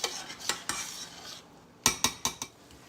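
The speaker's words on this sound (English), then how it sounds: "And stir it." A spoon stirs taco filling in a pot, making scraping swishes and several sharp metallic clinks in quick succession, with faint sizzling beneath.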